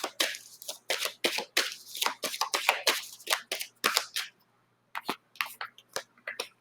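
Tarot cards being shuffled and drawn by hand, close rapid riffles and flicks in quick bursts with short pauses, crisp and papery, without talk.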